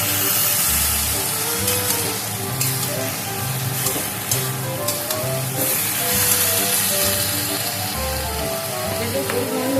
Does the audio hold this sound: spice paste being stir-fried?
yes